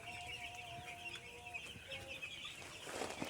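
Six-day-old broiler chicks on a poultry farm peep and cheep softly in a continuous chorus, with faint clucking and a rustle of activity rising toward the end.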